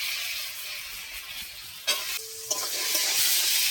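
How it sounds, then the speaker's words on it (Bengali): Soaked raw chickpeas and prawns stir-fry in a pan for a Bengali banana-flower and prawn curry, giving a continuous close hiss of sizzling oil punctuated by a few sharp scrapes and knocks of the spatula. "নেড়ে চেড়ে ভালো করে কষিয়ে নেব"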